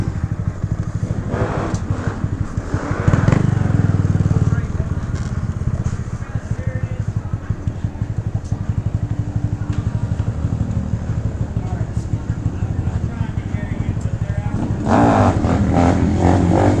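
Honda Grom motorcycles with loud exhausts rumbling and revving on a neighborhood street, a continuous buzzy engine drone that swells in bursts, close and loud, with voices talking over parts of it.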